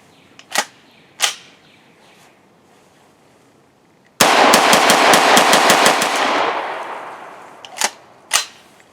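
A PAK-9 pistol loaded with Federal aluminum-cased ammo fires outdoors: two isolated sharp reports, then a fast string of about a dozen rapid shots with a ringing tail, then two more single loud cracks.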